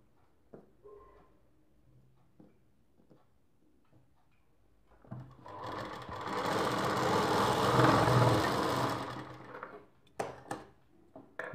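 A sewing machine stitches together the magji pieces of a lined Rajputi dress, its steady motor whir building from about five seconds and running several seconds before stopping, with scattered small clicks of handling before and after.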